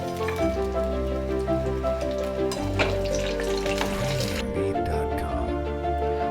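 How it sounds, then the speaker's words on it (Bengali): Potatoes, lightly steamed with salt beforehand, fry in oil left over from frying eggs, giving a continuous crackling sizzle with occasional stirring, while background music plays throughout. "ওই ডিমের ভাজার তেলেই আলুগুলো ফ্রাই করে নিচ্ছি।"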